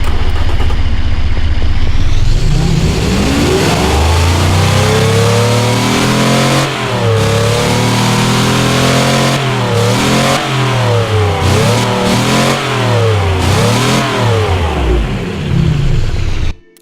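A video-game 1960 sedan's V16 engine revs loudly and repeatedly, pitch climbing and falling in rapid swells, close and alone, cutting off abruptly at the end.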